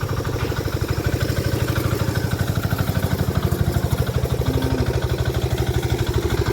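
A tractor engine runs at a steady idle close by, a rapid even chugging pulse with a mechanical clatter that continues without pause.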